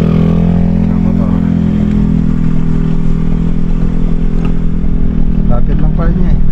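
A motorcycle engine rides past at an outdoor kitchen project in Santa Barbara, Pangasinan, a steady low drone that holds loud through the whole stretch, with people talking over it.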